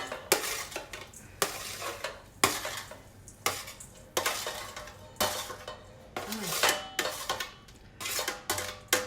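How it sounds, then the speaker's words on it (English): Roasted cauliflower pieces are slid from a pan into a bowl, giving a series of sharp metallic scrapes and clatters of utensil against cookware. The bursts come at irregular intervals, close and fairly quiet. "I'll just slide them into a bowl"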